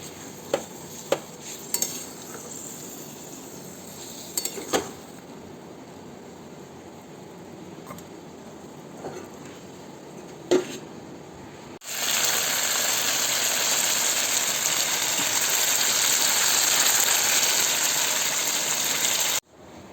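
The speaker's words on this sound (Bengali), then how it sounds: "এবার আমরা এই যে চিকেনটায় জল দিয়ে দিচ্ছি" Water poured onto chicken in a cooking pan, heard as a loud, steady gushing rush that starts abruptly after scattered clinks and scrapes, continues unbroken for several seconds, then stops.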